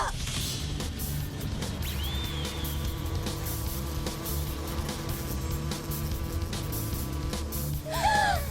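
Continuous droning buzz of a destructive giant cicada monster in a French cartoon, loud and unbroken for several seconds, with faint high chirping tones drifting over it and a brief swell near the end.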